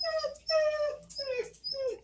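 A dog whimpers in several drawn-out, high, quavering whines, close by, with brief gaps between cries and a low indoor hum beneath.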